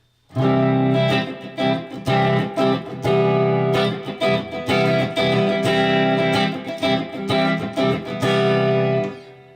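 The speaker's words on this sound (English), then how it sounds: "Now we'll put the reverb on." An electric guitar plays chords through a Toth Blues Cube amplifier with reverb set about halfway, strummed in repeated rhythmic bursts with sustained ringing tails.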